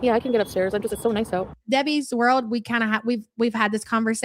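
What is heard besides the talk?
None of the usual background noises is heard.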